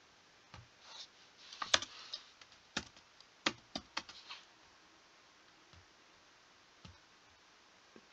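Keys on a computer keyboard tapped out in short irregular bursts as answers are entered, crisp clicks close by with gaps of quiet between them, no voices.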